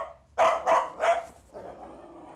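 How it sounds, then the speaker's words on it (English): A dog barks three times in a quick, loud run close to the mic, followed by a softer, lower whine or grumble as the barking trails off. "So he's barking his head off"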